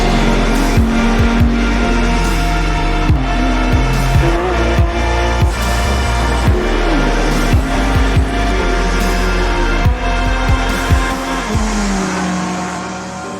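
Race cars in a PC racing game running the British GT Championship, engines droning continuously at high pitch with repeated gear-shift dips and revs, plus brief tire squeals, loud and steady throughout.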